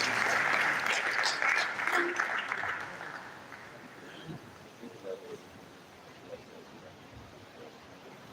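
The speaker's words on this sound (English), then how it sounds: "Please, a round of applause for him while he comes to the podium." An audience at an alumni association annual general meeting claps for a guest lecturer. The applause is strong at first, then thins and fades over a few seconds into quiet room noise with scattered claps.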